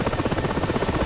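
Helicopter in the DCS flight simulator game, a close, loud rhythmic rotor thump pulsing steadily throughout.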